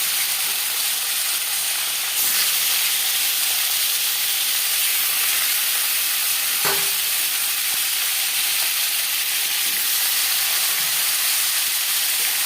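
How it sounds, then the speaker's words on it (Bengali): Marinated rohu fish hits four spoons of hot refined oil, producing a steady, loud sizzling hiss throughout, with one sharp crackling pop partway through. "চার চামচ রিফাইন্ড অয়েল গরম করে নিয়েছি দিয়ে দিলাম ম্যারিনেট করে রাখা মাছ"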